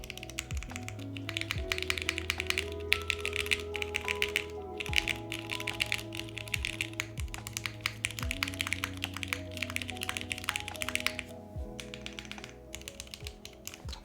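Typing on a custom F1-8X mechanical keyboard with original TX stabilizers: a dense stream of quick, clacky keystrokes with occasional louder rattling hits, steady and close, over a low background tone and with no speech.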